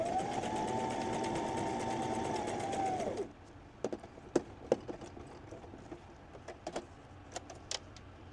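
A sewing machine stitching cotton wipes runs in a steady whirring hum for about three seconds, then stops, followed by scattered small clicks and taps of fabric handling close by.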